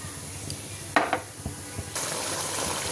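Almond and poppy seed paste dropped into a hot pan and stirred, giving a soft sizzle with a few scraping clatters of a spoon against the pan, close and moderately loud over steady frying hiss.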